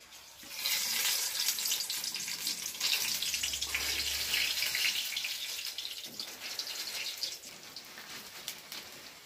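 Bajji fritters frying in hot oil give a steady crackling, bubbling sizzle at moderate volume, with no one talking.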